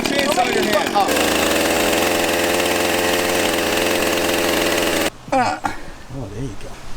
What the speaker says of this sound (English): You have a chainsaw in your hand.